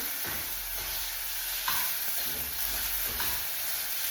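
Tomatoes softening in a hot pan give a steady, close sizzle and hiss throughout, with a few faint stirring scrapes.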